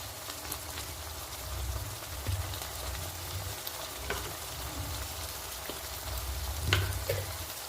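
Prawns sizzling in a little ghee in a pan, a steady close crackling fry with occasional louder pops and a faint stirring clatter, no voices.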